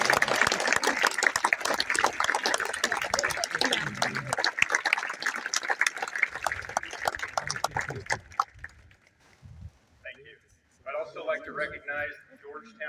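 An audience at a high school graduation ceremony gives a round of applause, a dense sustained clapping that thins out after about eight seconds, followed by scattered claps and brief speech.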